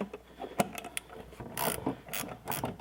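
A hand ratchet tightens a nylon lock nut onto a shock stud on a 4wd Chevy V8 Colorado, clicking in several short rapid bursts with pauses between, close and fairly loud.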